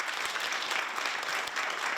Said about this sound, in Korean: 공헌자분들이 소개되고 큰 박수를 받았는데요